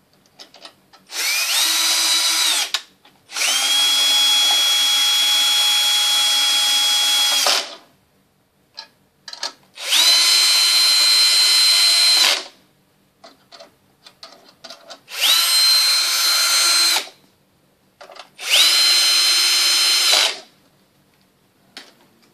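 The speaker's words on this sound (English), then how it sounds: "Screw in the 4 screws." A power drill driving screws into the faceplate of a sensor urinal flusher, with four separate whirring bursts of a few seconds each separated by short pauses and small clicks, loud and close, with no talking.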